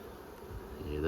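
Close buzzing drone of weak, queenless honey bees in an opened hive, a steady humming swarm that swells slightly louder at the end.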